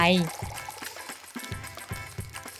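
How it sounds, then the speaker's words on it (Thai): Water is poured into a square container holding toothbrush tips, making a close, uneven trickling splash that runs throughout, partly masked by a voice speaking over it. "เทน้ำลงไป"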